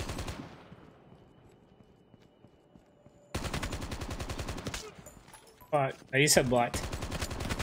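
Dense automatic gunfire in Call of Duty Mobile Battle Royale rattles as a fast, loud stream after a quieter stretch, and someone speaks briefly over it.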